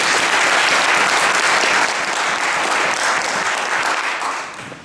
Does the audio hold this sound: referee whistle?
no